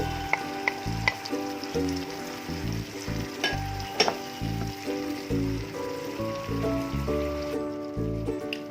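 Water poured into frying biryani masala makes a continuous sizzle with stirring scrapes and a few clinks, over steady background music.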